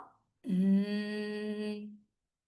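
One long, steady nasal hum held for about a second and a half on a single low pitch, made by a person during bhramari pranayama in imitation of a honeybee's buzz, close and clear against silence.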